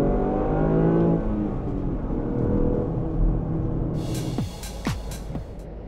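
A Lexus LBX Morizo RR pulls hard under throttle, its engine note climbing loudly through the revs before the roar eases and a few sharp mechanical clicks follow.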